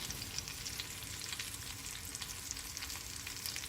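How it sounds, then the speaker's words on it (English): Steady, close sizzling and crackling of mackerel frying in hot oil with turmeric and salt, continuous with small pops. "I am slightly frying it with just turmeric and salt."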